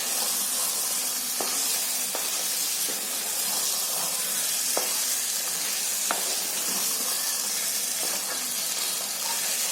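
Water splashed into a hot kadhai of Konkani-style mutton masala sets off a steady, loud hiss of sizzle and steam, with faint scraping clicks from stirring scattered throughout.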